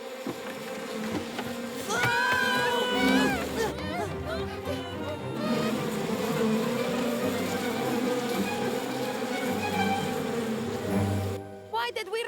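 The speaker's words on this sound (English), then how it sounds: "There's an enormous swarm of bees in the cabin." A large swarm of bees buzzes inside a wooden treehouse cabin in an animated scene, a dense continuous drone with other voices and sounds layered over it.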